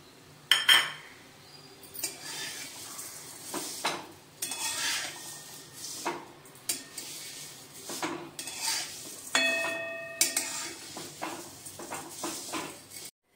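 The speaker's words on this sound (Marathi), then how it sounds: "तूप आपलं गरम झालंय, त्याच्यामध्ये आम्ही शेवया टाकते। शेवया मी तुपामध्ये पूर्ण भाजून घेते।" Vermicelli roasting in ghee in a pan, heard as repeated rattling scrapes and metallic clinks of a spoon against the pan over a faint background hiss, with no talking.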